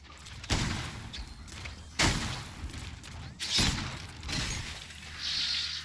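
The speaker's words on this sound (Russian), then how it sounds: "Ну что, 3 выстрела." Three shotgun blasts go off in the video game Memories of Mars while fighting spiders, each a sharp burst spaced about one and a half seconds apart, with a faint rattle or hiss trailing after the last.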